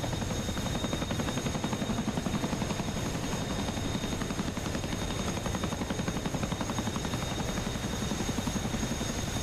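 A Chinook helicopter drones close and loud with a steady, rapid rotor thump and a constant engine whine underneath, unbroken for the whole stretch.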